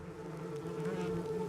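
Bees buzzing: a steady, continuous droning hum with layered tones, moderately loud and unbroken, with no voices.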